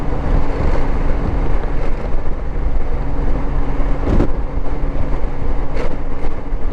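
Cold wind blowing outdoors, with the wind chill around the 20s, buffeting close in a loud, continuous low rumble with occasional gusty surges.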